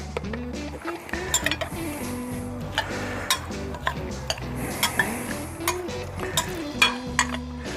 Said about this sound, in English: We'll give that a stir and let it marinate.